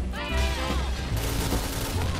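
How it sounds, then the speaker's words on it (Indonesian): A bomb goes off in a Point Blank clan-war match, a loud, booming blast with crackling debris and rumbling aftermath that lasts about two seconds and stands alone with no talk. "Ya Allah, jauh loh bomnya."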